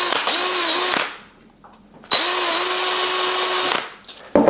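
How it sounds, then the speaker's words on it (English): A power drill bores twice into a wooden paint stir stick, each burst a steady high whine lasting about a second or more, separated by a short pause, close and loud with no talking. "The way I like to attach this is to drill 2 holes in the top"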